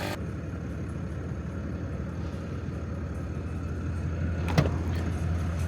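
A car idles steadily with a low engine hum throughout, then a brief louder clunk and rise near the end as it begins to move off, no talk over it.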